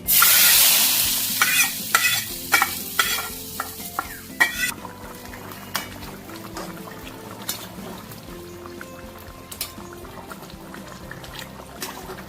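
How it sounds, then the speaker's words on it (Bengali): Cumin, bay leaf and dried chili hitting hot oil for a katla fish curry with potato and pointed gourd: a loud burst of sizzling, then spatula stirring and crackling that gradually settles. "জিরে, তেজপাতা, শুকনো লঙ্কা ফোড়ন দিয়ে দিচ্ছি।"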